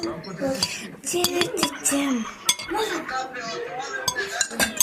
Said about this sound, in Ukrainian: Десь акуратно, бо тут тарілки все.